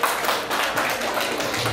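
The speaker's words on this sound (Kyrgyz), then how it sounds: "Кол чабуулар, туулган күнүң менен." Applause at a birthday party: a dense, steady patter of many hands clapping together, filling the space evenly throughout with small swells in intensity.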